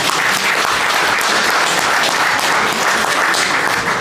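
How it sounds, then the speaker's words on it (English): Loud, steady applause from a crowd at a boxing press conference, dense clapping that stays even throughout. "Let's get a round of applause for Sunbet, guys."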